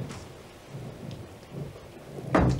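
A thunderstorm with steady rain hiss, low rolling rumbles of distant thunder and a sharper, louder crack near the end.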